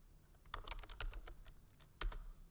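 Close typing on a computer keyboard to search the Windows 10 start menu, a quick run of crisp keystrokes, a pause, then another short burst, with no one speaking.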